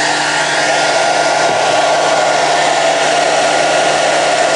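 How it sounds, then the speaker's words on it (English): An 1800 watt hair dryer running on its maximum setting gives a loud, steady, continuous blowing whir with a constant motor hum, unbroken for the whole stretch and alone with no voices. "This is an 1800 watt hairdryer on maximum."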